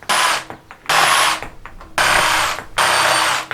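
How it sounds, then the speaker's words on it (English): A jigsaw cuts through leftover 2x4 wood in four loud, high-pitched bursts of about half a second each, separated by short pauses with clatter. "these cuts I will make using the jigsaw"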